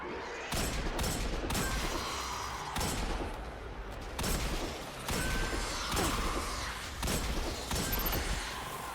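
Hand cannon fire in the video game Destiny 2: a run of loud, sharp shots spaced roughly a second apart, each with a booming crack and a short decaying tail.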